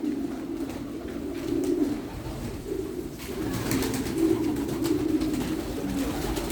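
Pigeons in a loft of French meat pigeons coo close by, overlapping soft throaty calls rising and falling in a continuous murmur.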